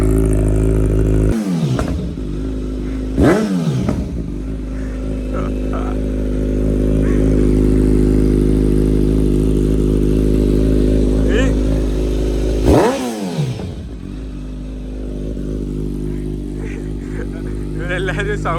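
Superbike fitted with an Akrapovic exhaust, its engine revving in loud bursts over a steady rumble, with two sharp throttle blips early and another strong rev later; voices speak faintly in the background.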